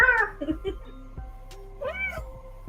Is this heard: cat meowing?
yes